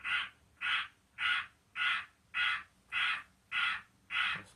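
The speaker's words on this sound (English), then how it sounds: "Goddamn bird right there." A crow caws nearby in a steady series of eight loud, evenly spaced harsh calls, alone with no other sounds.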